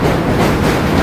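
A train rolling across the Brooklyn Bridge in New York City, a loud, dense rumble with faint rhythmic clatter, continuous over a brief moment.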